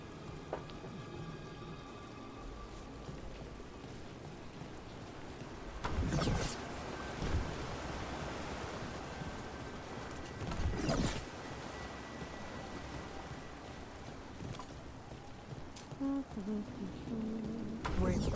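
A waterfall in the video game Dragon Age The Veilguard gives off a constant rushing, rain-like wash of water, with a few louder bursts and faint in-game sounds over it.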